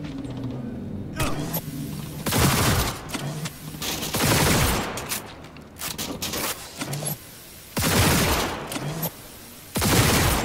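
Bursts of gunfire from Cyberpunk 2077, several loud volleys and rapid automatic strings broken by short gaps, with mechanical clicks in between.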